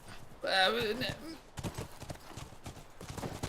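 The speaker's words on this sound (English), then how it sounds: "back to the horses" Hooves of horses galloping in a video game clatter in a quick repeating rhythm, with a short whinny near the start and voices talking faintly underneath.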